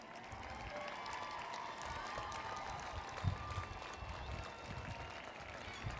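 Graduates applaud the mothers and fathers standing in the hall at a college graduation ceremony, a steady, sustained wash of clapping from a large crowd with a faint murmur of voices.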